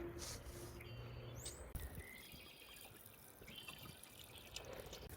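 Soft, steady spray and trickle of water from a small Poposoap solar floating bird bath fountain, faint and close, with a few bird chirps in the background.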